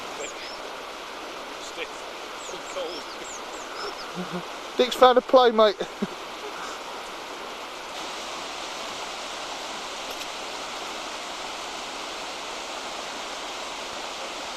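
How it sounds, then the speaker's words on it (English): Swollen stream rushing with snowmelt, a steady broadband roar of water running throughout, with a voice briefly speaking over it midway. "As you can hear, the old stream is really pumping some water through."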